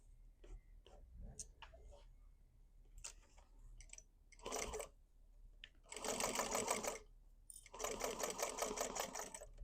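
A sewing machine stitches webbing onto a handmade fabric basket, starting with soft scattered clicks and handling noises, then running in two longer rapid bursts, close and fairly quiet.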